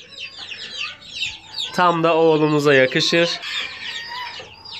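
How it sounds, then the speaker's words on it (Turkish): A tiny Serama hen clucks in a series of short, close calls, joined midway by a louder, drawn-out tonal call, while someone speaks over part of it. "Yine mini minnacık küçücük bir serama tavuk."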